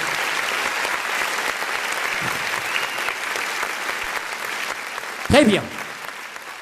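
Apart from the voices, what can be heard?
applause from the audience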